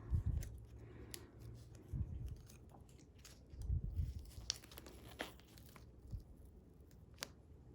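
A paper envelope holding a 1980s vintage sticker is carefully worked open at close range, giving intermittent soft tearing, crinkling and snipping sounds with pauses between them.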